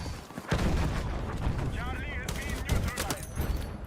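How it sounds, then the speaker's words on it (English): Rapid bursts of gunfire and booming blasts from Battlefield 6, dense and continuous, with some rising whistling tones mixed in. "Apparently everything on this map just explodes."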